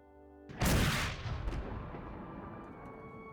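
A 24-pound mortar fires once in the video game Battle Cry of Freedom, a sudden loud boom that rolls into a long, fading rumble.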